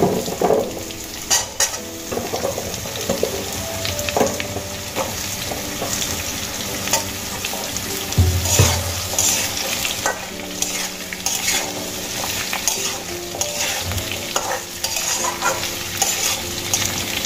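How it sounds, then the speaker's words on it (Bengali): Pumpkin pieces and potatoes fry in a pan with a steady sizzle, broken by scraping stirs and occasional clinks of a utensil against the pan, close and continuous. "আলুর সঙ্গে সঙ্গে আমি এখানে টুকরো করে কেটে রাখা কুমড়োগুলো দিয়ে দেব।"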